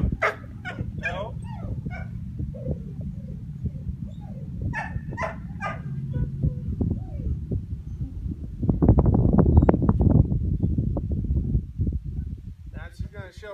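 Four-month-old puppy in obedience training, giving short whimpers and yips with a louder burst of barking near the end, heard close under a trainer's ongoing spoken commands.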